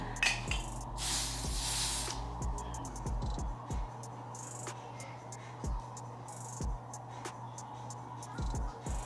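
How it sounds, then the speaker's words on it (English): Aerosol spray hissing onto the lace of a brown highlighted bob wig during a glueless install, a few short bursts, while small clinks and tapping rattle nearby. "So now the spray on."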